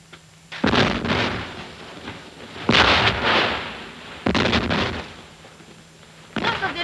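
Explosions and gunfire in an Albanian war film, with several loud broadband blasts spaced a second or two apart, each rumbling and decaying before the next, and a further burst at the end.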